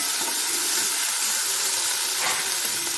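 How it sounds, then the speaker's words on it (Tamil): Tomatoes sautéing in a pan with onions that are already softened, a steady soft hiss and sizzle close by, with faint stirring and no voices. "இப்போ தக்காளி போட்டுக்கலாம். அதையும் நல்லா வதக்கிக்குவோம்."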